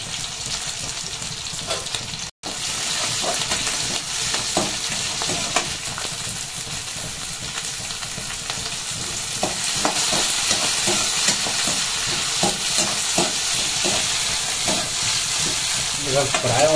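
Onions sizzling and frying in a pan for noodles, a steady loud crackle with scraping stir strokes throughout and a brief dropout near the start.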